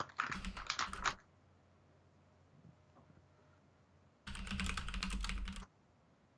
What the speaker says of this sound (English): Can you hear my keys tapping?